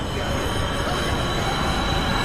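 A New York C subway train in a movie scene gives a steady, dense roar of wheels and rushing air, loud and continuous without a break.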